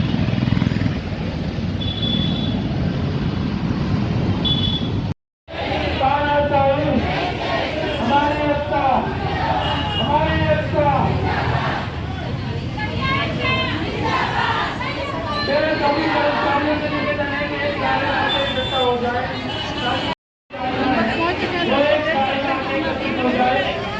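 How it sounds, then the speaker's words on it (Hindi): Large crowd gathered at a protest sit-in in Dhanbad, with a steady, dense wash of overlapping voices and chatter, traffic noise beneath, and two brief dropouts breaking the otherwise continuous din. "बहुत भीड़ है"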